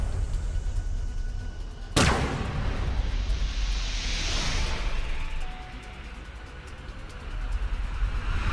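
A single sharp, loud scattershot blast from the video game AI The Somnium Files, followed by a rolling, whooshing rumble that swells and fades over several seconds.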